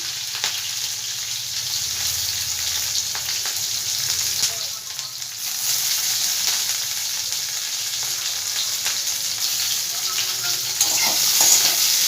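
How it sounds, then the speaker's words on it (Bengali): Chopped onion and capsicum sizzle steadily in hot oil in a pan, a dense, even frying hiss that runs unbroken for the whole stretch at close range, with no voices over it. "তেলটা গরম হয়ে গেছে। তেলের মধ্যে আমি এবার পেঁয়াজটা দিয়ে দিলাম, সঙ্গে ক্যাপসিকামটাও আমি দিয়ে দিচ্ছি।"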